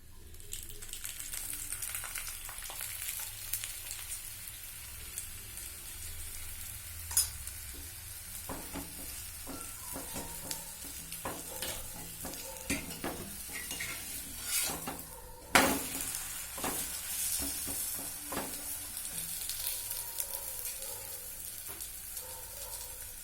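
Potato parathas frying in oil in a pan give off a steady sizzle, with intermittent scraping and tapping of a spatula against the pan and a few sharper clinks.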